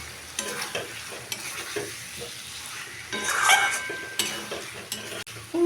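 Fried potatoes being stirred into a ground spice mix in a pan, with sizzling and irregular scraping strokes, including a louder burst of sizzle midway.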